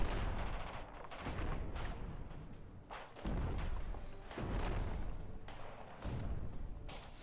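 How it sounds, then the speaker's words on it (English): Heavy artillery fire in the war strategy game Radio General: repeated loud booming blasts roughly every one to two seconds, each a deep thud with a rumbling tail, over a continuous battlefield din. "We're under heavy artillery fire!"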